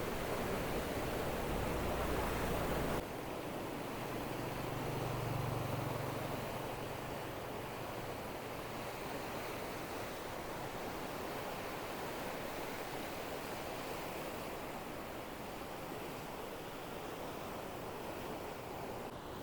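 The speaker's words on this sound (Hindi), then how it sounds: "ये इस तरफ यहाँ से पानी आ रहा है, ये पानी आ रहा है यहाँ से" River water rushing through the gates of the Head Qadirabad barrage makes a dense, steady roar that holds unbroken for the full length, with no talking over it.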